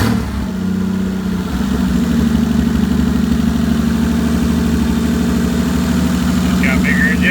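A car engine fitted with bigger injectors and in need of idle and boost tuning fires up and settles into a steady, loud idle that runs without a break from start to finish, with a few brief higher sounds near the end.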